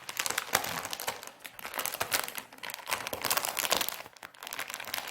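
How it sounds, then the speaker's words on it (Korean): A dog tears a plastic wrapper off a whole dried pollack, a continuous close crinkling and ripping with sharp crackles that barely pause. "혼자서 비닐로 벗겨가지고 다 먹는다니까요."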